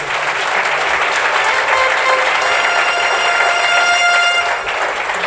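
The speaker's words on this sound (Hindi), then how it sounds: "हमारे म्यूजिशियंस के लिए भी एक बार" Loud, dense applause from an audience at a live music gathering, steady and sustained throughout, with faint tonal horn-like notes drifting over the clapping.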